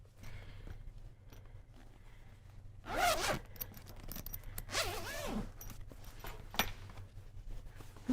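A backpack zipper is pulled open in two short, raspy strokes close by, with soft fabric rustling and handling around them.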